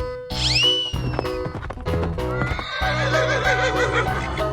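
A horse whinnies in a 3D animal slide game, a bright rising-and-falling neigh near the start over busy game music and effects.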